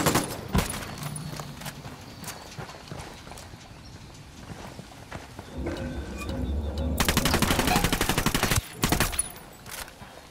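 Gunfire in the Ghost Recon Wildlands video game, scattered sharp shots followed by a loud sustained automatic burst near the end, close and punchy over a busy background with occasional voices.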